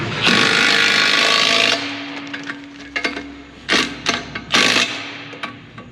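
A Milwaukee impact wrench fastening bolts during an undercarriage rebuild of a Deere 700J dozer, a sustained loud rattling run followed by several short hammering bursts, close and without talk.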